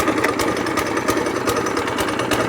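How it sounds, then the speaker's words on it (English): A Trailmaster Hurricane 200x mini bike engine idles a little high just after a pull start, a steady close chugging putter with regular sharp ticks and no talking. "Goes idling a little bit high right now, but pretty much first pull every time"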